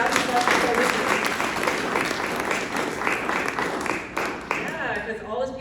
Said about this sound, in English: round of applause for coalition